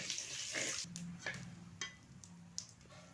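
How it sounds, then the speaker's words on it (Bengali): Dried chilli, bay leaf and cumin dropped into hot oil in a kadai, giving a soft crackling sizzle with a few sharp pops and clatters, fairly quiet and close. "শুকনো লঙ্কা তেজপাতা জিরে ফোড়ন দিলাম"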